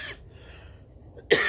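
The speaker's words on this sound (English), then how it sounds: "I had a cough real quick" A single sharp cough, close and loud, breaks through near the end after a brief bit of low breathy sound and quiet background.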